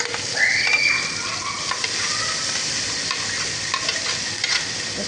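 Onion paste sizzles steadily in hot oil for a pangasius fish curry with potatoes and taro, with close stirring scrapes and crackles over the frying hiss.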